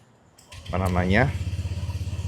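A Honda Vario 125 scooter engine cranks with a short starter whir, catches, then settles into a steady close idle with an even pulsing beat.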